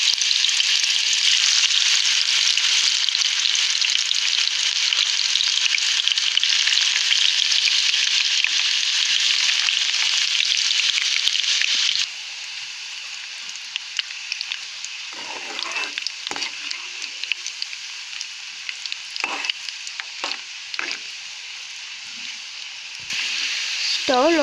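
Moong dal (split yellow lentils) deep frying in hot oil on a low flame, a loud steady sizzle for about twelve seconds that then drops to a quieter bubbling hiss broken by scrapes and stirring clinks.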